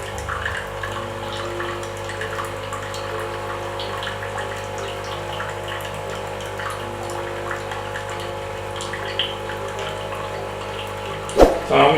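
A Bosch Tassimo My Way 2 coffee machine runs a cleaning cycle, pumping water in a steady, continuous hum and trickle. A brief clunk comes near the end.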